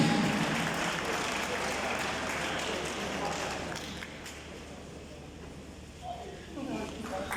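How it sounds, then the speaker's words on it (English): Crowd clapping fills an outdoor World Rabies Day event in Kebbi, Nigeria, a continuous wash of applause that slowly fades, with voices speaking over it. "Clap for her, please."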